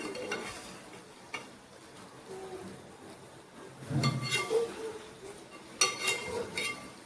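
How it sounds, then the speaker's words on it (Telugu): Fish curry in a pan gently stirred with a dosa spatula, giving soft scraping strokes and brief clattering bursts over a quiet, low simmer. "దీంతో దోశల దాంతో మెల్లగా కలిపిద్దాం"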